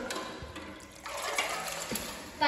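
Water runs from a shower in a Turkish bath as a steady hiss and spatter with a few louder splashes, heard nearby in a reverberant room.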